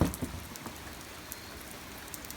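Steady summer rain pours down in a broad, even hiss with scattered drop impacts, close and moderately loud, with no voices.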